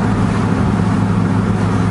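A 1965 Ford station wagon fitted with new mufflers is under way, its engine giving a steady, loud, low drone with no change in pitch and no talking.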